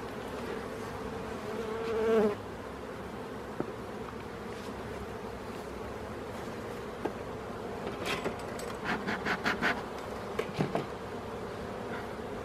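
Honeybees and drones buzz around a hive frame being inspected by a beekeeper, a steady close-up hum of wings with a louder swell near the start and scattered sharper buzzes as bees fly past; no talking.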